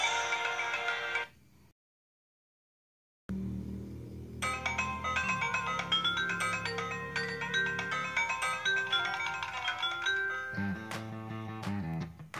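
Tinny electronic music from the Gameloft Java mobile game Diamond Rush, played on an old Polytron Genio phone, beeps out a bright melody, breaks off into silence, then resumes with a jingle and a few final chimes.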